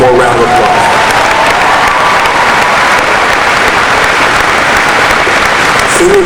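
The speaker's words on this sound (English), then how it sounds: "One more round of applause." Loud, dense applause with cheering fills a high school graduation ceremony, a continuous wash of clapping from a large crowd of graduates and guests that holds steady throughout.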